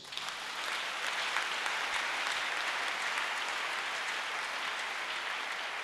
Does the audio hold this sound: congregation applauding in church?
yes